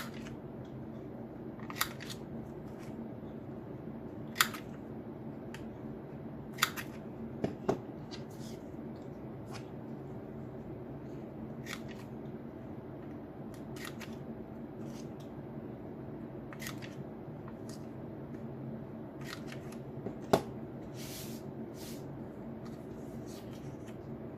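Scissors snipping the corners off paper scraps for decorative labels, scattered crisp clicks and short cuts spaced a few seconds apart, close but faint over a steady low room hum, with no one speaking.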